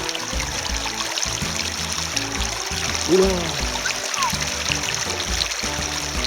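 River water on the Rio Darro in Spain flows and trickles close by in a steady rushing wash, with a voice talking over it and a brief exclamation.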